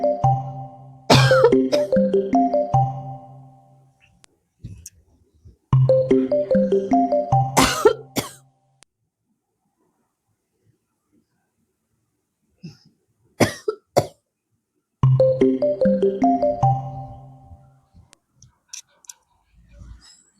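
A woman with a cold and fever coughs in three separate harsh fits, each a rapid cluster of loud coughs with quiet gaps between, plus a few softer throat sounds.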